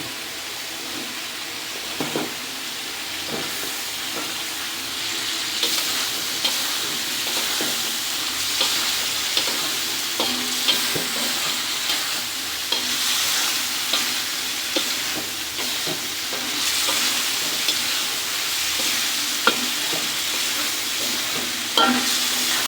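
Spice masala with tomatoes sizzles steadily in a pan during frying, with repeated spatula scrapes and knocks at irregular intervals, close and continuous with no talking.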